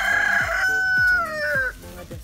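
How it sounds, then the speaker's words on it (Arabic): A rooster crows once, a loud drawn-out call that rises and trails off, with other faint farmyard noises in the background. "هذا صوت الديج."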